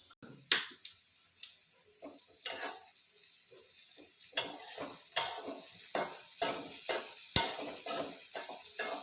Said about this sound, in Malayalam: ഇങ്ങനെ ചക്കക്കുരു മെഴുക്ക് പുരട്ടി റെഡിയാകാനായിട്ട് വെച്ചു.